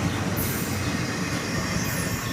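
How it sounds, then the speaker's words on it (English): The tail end of a long CSX intermodal freight train rolls past, a steady loud rumble of cars on rails with wheel squeal running throughout, no voices. "the tail end of this monster intermodal train goes by"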